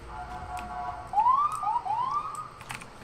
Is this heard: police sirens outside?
yes